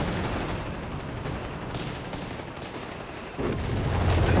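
Explosions and gunfire in the WWII strategy game Company of Heroes 3, a continuous loud barrage of rumbling blasts and crackling shots with a heavier boom near the end.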